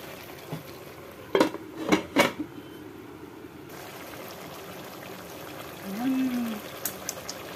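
Metal pot lid clanks down onto a cooking pot of chicken adobo, three sharp clatters close together, followed by a low simmering background and a brief faint tone.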